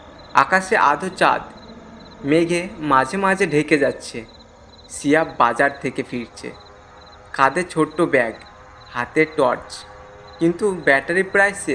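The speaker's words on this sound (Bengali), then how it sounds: "দূরে ঝিঝি পোকার ডাক" Crickets chirp at night along a deserted village road: a thin, steady, high trill runs faintly in the background beneath someone narrating a story.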